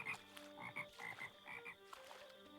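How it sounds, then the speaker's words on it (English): Frogs croaking in a swamp in the modded Minecraft video game, a series of faint, repeated croaks in an irregular rhythm with no talk over them. "Frogs. The sound of frogs."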